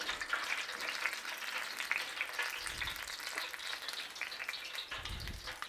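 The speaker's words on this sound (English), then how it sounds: "So we just need to fry and crisp up the outside, that is all." Chiko rolls deep frying in oil set to about 175 degrees, giving a steady, dense crackling sizzle that stays even throughout, close by and with no voices.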